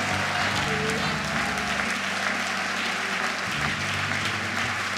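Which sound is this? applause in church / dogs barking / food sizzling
applause in church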